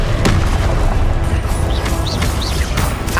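Blasts from the Confringo curse in the Hogwarts Legacy video game, a few booming impacts ringing out over a dense, continuous layer of spell effects and combat noise.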